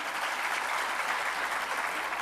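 Steady, loud applause from an audience during a speech, thick continuous clapping throughout, with no talking over it.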